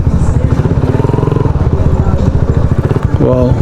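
A big bike's engine idles with a loud, rapid, pulsing throb close by, then revs slightly near the end, with bikers gathered around.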